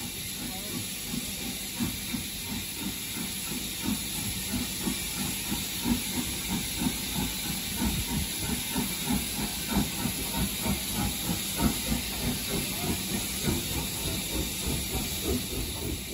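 A steam locomotive on the North Yorkshire Moors Railway hisses steadily near Grosmont, a loud constant steam roar over rhythmic rail clatter and chuffing beats that quicken slightly as the train moves.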